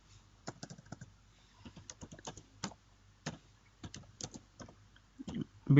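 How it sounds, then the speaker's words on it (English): Someone types on a computer keyboard in short bursts of crisp, close key clicks separated by brief pauses, ending with a heavier thump like a key press. "Now we will push our folder to the GitHub repository by typing command git push"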